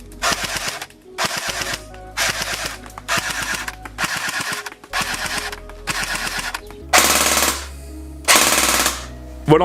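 Airsoft M14 DMR replica firing dry test shots in a series of bursts, each a rapid mechanical rattling of shots lasting under a second, with the last two bursts louder and harsher, close up with no talk.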